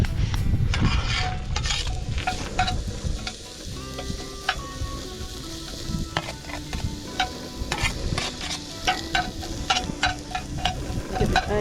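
Onion and peppers sizzling in a hot pan outdoors on a chilly, breezy day, a dense continuous frying hiss with scattered clicks and scrapes of stirring, no talking.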